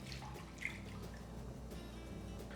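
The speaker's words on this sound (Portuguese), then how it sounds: "eu vou acrescentar 2 xícaras de leite," Milk poured from a cup into a pan on an unlit stove for a cooked cornmeal cake, a soft steady liquid trickle with a faint splash, quiet and close, no talking.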